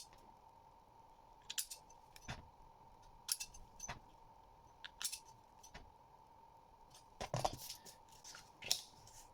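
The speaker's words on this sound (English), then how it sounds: "So cut out your tray. You can cut it roughly, and then you can cut it accurately." Scissors cutting out a paper or card tray for a matchstick rocket, with a series of short, crisp snips and rustles spread over several seconds, fairly close, no talking.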